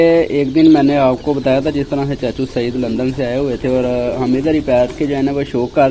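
Someone talks steadily up close while pigeons coo softly in the background as they eat grain.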